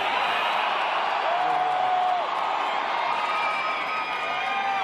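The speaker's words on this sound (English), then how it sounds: "And the crowd goes wild." A large crowd at a Las Vegas political rally with President Trump cheers and whoops loudly, a dense sustained roar with shouts rising above it.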